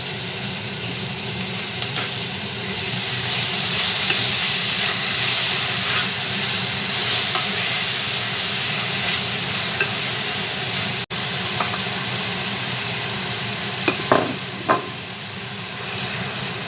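Glass noodles are stir-fried in a pan with oyster sauce and sugar, producing an unbroken close sizzle with soft stirring scrapes and a couple of sharp clicks near the end, without speech.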